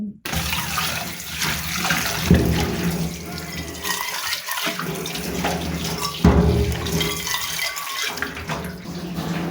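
Tap water runs steadily and loudly into a kitchen sink while dal is being cooked, with a couple of brief splashing surges and short drops in the flow.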